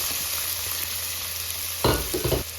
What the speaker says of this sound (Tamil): பூண்டு வெங்காயம் வதங்குறது